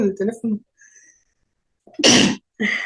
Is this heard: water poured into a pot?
no